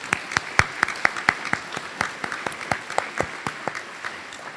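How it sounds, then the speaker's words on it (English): Light, sparse clapping from a small audience at a college student union ribbon cutting, individual claps distinct and uneven in rhythm, fairly close and moderately quiet, with no voices. "Maybe we should clap for you at this point"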